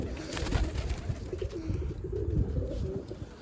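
Pigeons coo softly on a rooftop at a pigeon club tournament in Amritsar. The low, rolling calls sit under steady clatter and background noise.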